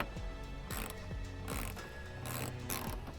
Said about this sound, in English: go ahead and take your 10mm socket, start tightening these down